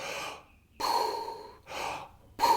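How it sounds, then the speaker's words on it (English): Deep recovery breaths from a freediver who has just surfaced, three to four heavy inhale-exhale bursts separated by short pauses, close and loud with no talking. "When you reach the surface, you're going to do recovery breaths or bigger breaths"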